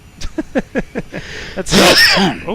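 A person sneezes once sharply, loud and close, right after a brief bit of speech, with another person talking faintly nearby in a home cockpit setup.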